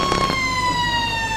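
Siren at an Australian rules football match between Victor Harbor and Mount Compass sounds as a loud, sustained steady tone, briefly overlapping crowd noise at the start and then ringing on alone.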